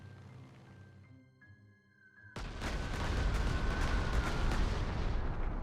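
Bombing attack in the wargame Panzer Corps 2: after a quiet stretch of faint tones, a sudden loud burst of explosions hits and keeps rumbling and crackling densely to the end, with sharp booms popping through the roar.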